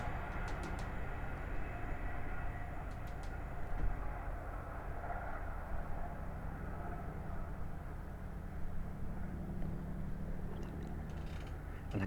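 A Hull Trains Class 801 on a King's Cross to Leeds service rumbles past on the East Coast Main Line at Sandy, a fairly quiet, steady roar from a moderate distance with faint high rail squeals.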